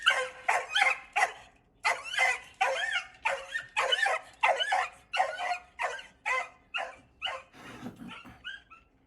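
A small dog barks repeatedly at a basement, sharp high yaps in quick bursts, close and loud, mixed with a few whimpers and whines near the end.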